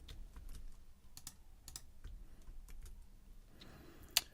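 Keys clatter on a computer keyboard as a notebook name is typed into Oracle Cloud Infrastructure Data Science, sounding as quiet, irregular close clicks in short bursts, ending with one sharper tap.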